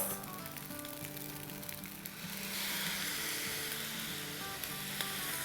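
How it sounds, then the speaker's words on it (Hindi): Soy sauce hits a hot pan and sets off a loud, hissing sizzle that swells about halfway through and then holds steady, close up, over a low background hum. "अब इसमें हम डालेंगे अराउंड 1 टेबलस्पून के आसपास सोया सॉस।"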